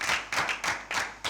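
Studio audience on a French TV talk show clapping to welcome a guest, a short burst of bright, dense applause with several swells, near and fairly loud.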